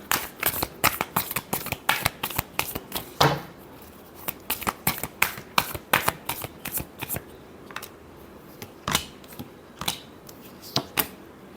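Tarot cards being shuffled by hand close up, in rapid bursts of crisp riffling and slapping that repeat unevenly over about eleven seconds.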